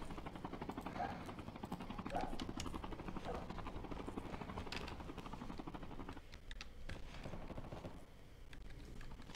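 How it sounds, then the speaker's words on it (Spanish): A helicopter hovers in the Call of Duty Mobile battle royale, its rotor chopping in a steady, rapid pulse throughout, with brief bursts of gunfire and clicking over the drone. "Está ahí el helicóptero."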